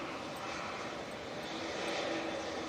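A Bombardier Global business jet at an airport on a gusty day, its engine roar a steady, fairly loud broadband rush that swells slightly toward the end, with no voices over it.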